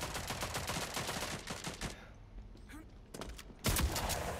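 Shotgun blasts in a video game, a dense burst of rapid shots in the first two seconds, a brief lull, then another loud blast near the end.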